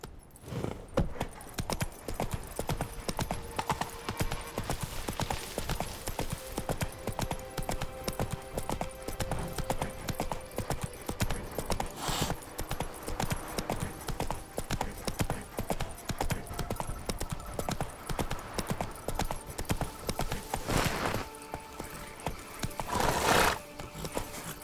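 A horse gallops in the video game The Witcher 3: a fast, steady clip-clop of hooves drumming continuously and close, with a couple of snorts and a whinny near the end, over faint ambient music.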